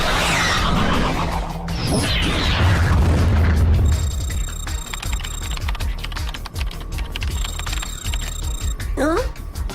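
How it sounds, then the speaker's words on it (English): A torpedo explodes in an animated sci-fi series: a heavy boom with rumbling low end opens the moment, then dies into a muffled underwater-like hum with electronic beeps and a short voice near the end. "An explosion. A Navsky torpedo."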